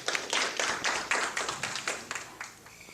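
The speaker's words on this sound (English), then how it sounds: "Let's give him a clap." A small audience at a gathering for an autism therapy centre gives a brief round of clapping, individual hand claps distinct and fading out toward the end.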